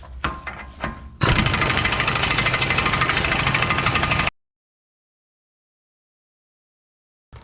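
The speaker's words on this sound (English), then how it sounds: "I'm just going to tighten it up with the impact and then torque it" An impact wrench tightens the front axle nut on a Toyota Highlander. A few light clicks come first, then one loud, rattling hammering burst lasts about three seconds before cutting to silence.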